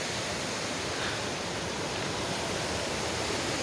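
Small waterfall at Lindeman Lake near Chilliwack, a steady broadband rush of falling water, close and constant throughout with no voices.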